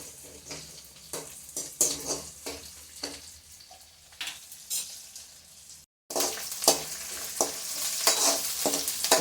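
Onions sautéing in a pan for a goat blood stir-fry, with steady frying sizzle and repeated stirring scrapes throughout, a brief silence near the middle, then louder and fuller sizzling afterward.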